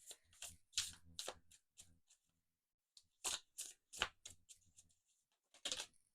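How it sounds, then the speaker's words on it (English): Tarot cards are shuffled in quick, crisp bursts of riffling and flicking, close and quiet, with short pauses between rounds. "I'm going to use my yes no deck, so I'll shuffle"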